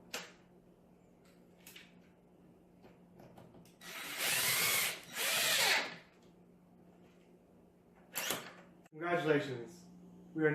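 A screw is driven into a Kick Monarch 48-inch foosball table during assembly, giving two loud, close bursts of power-driver whir, then short clicks and a brief rattle in an otherwise quiet room.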